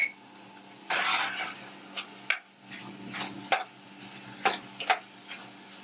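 Persian tomato paste frying in a pan while being stirred, with scraping bursts and soft sizzling that come in an irregular rhythm, close and moderately quiet, with no talking.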